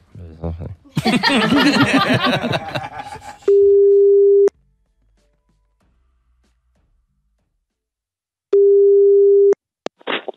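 A telephone call's ringing tone sounds twice as long steady beeps separated by silence, after a burst of people talking and laughing.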